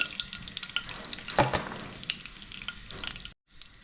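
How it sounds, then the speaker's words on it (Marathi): Mustard seeds and cumin seeds sizzle and crackle in a ladleful of hot oil in a pan, a steady close frying hiss with sharp little pops throughout, briefly cutting out near the end. "दोन पळ्या तेल घातले आता राई घालते त्याच्यामध्ये राई घातले जिरं घातले"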